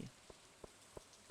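Rain in Stardew Valley falls as a soft, steady patter with evenly spaced droplet ticks roughly every third of a second, quiet and alone.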